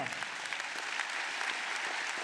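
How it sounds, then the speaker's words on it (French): A crowd at a political speech claps steadily and evenly for a couple of seconds, a dense, continuous patter of applause. "on peut l'applaudir"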